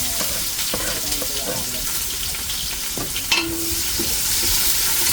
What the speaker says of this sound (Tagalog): Golden brown mo muna yung bawang. Tapos isunod yung sibuyas.